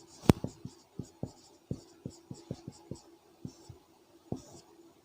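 Chalk or pen tapping and scraping out a maths equation on a board, a series of short, sharp, fairly regular strokes with brief pauses, close and moderately quiet.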